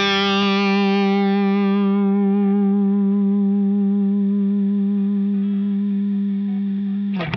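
Guitar played through a Two Notes OPUS with its noise gate on, one sustained distorted chord ringing loud and steady with the tail let through before a brief pick scrape at the end.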